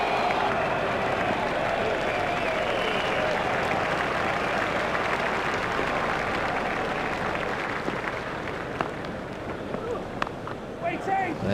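A cricket crowd at a South Africa versus Australia one-day international applauds a six, with sustained loud applause and crowd noise that fades slightly toward the end while commentary continues over it.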